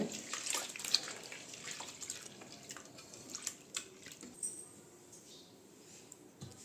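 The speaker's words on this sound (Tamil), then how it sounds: "ஒரு 4-5 டைம் நல்லா வாஷ் பண்ணி எடுத்துகிட்டு வந்துடுங்க" Moong dal lentils being rinsed in water for a sweet payasam, giving a quiet, steady trickle and light splashing with small drips throughout, faint and without talk.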